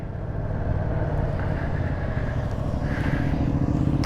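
A 2025 Yamaha MT-07 motorcycle on new tires rides steadily, giving a constant loud rumble of engine and road noise mixed with wind roar, with no talk over it.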